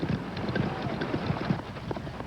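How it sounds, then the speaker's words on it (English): Horses pulling a wagon break into a run, a steady dense clatter of hooves and wheels at moderate distance, continuous throughout with no voices. "the horses just took off"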